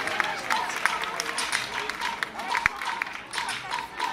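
An audience at a live Cuban music concert in Brindisi applauds a salsa orchestra, a steady, moderately distant wash of clapping and crowd noise with scattered sharper claps throughout.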